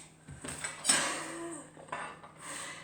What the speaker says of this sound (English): I'm going to chop some onionies up